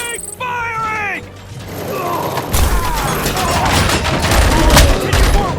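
Gunfire in the video game RoboCop: Rogue City: loud, rapid bursts of shots mixed with clanking mechanical effects and battle noise, with game voices shouting underneath.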